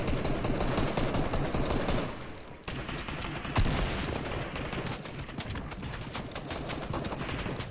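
Dense, sustained automatic gunfire in a competitive shooter video game match, loud and continuous with a brief lull midway before the rattling shots pick up again.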